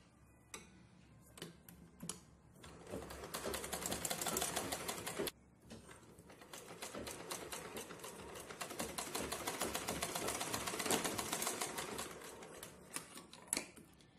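A sewing machine stitches a puff sleeve in fabric, giving a fast rattling tick of the needle in bursts, with a short pause partway through before it runs on again, close up and with no talk.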